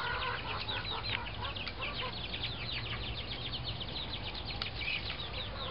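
Young Dark Cornish meat chickens out in the open give constant overlapping peeps and soft clucks, a busy, close chorus lasting throughout with no one speaking.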